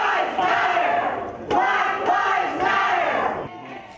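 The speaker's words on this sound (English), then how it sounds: "a fired up crowd takes on Charlottesville City Council" An angry crowd at a Charlottesville City Council meeting shouts and chants in loud, overlapping bursts that rise and fall in waves, with sharp claps or bangs cutting through.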